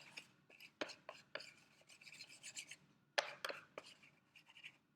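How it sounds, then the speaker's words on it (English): A Lego block rubbed and scraped against paint on a surface, a quiet series of short raspy strokes and scratches in irregular bursts, close and soft with no talking. "Start by rubbing your Lego in your paint."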